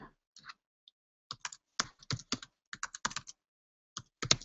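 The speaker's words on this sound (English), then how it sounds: "Okay, so I'm going to type in, what was it again?" A computer keyboard is typed on in irregular bursts of crisp, close keystrokes separated by short pauses, with no voices.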